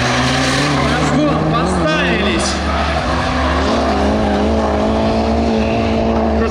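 Nissan 200SX Silvia drifting: a loud, strained engine roar with shifting revs and tire squeal, under excited commentary that runs throughout.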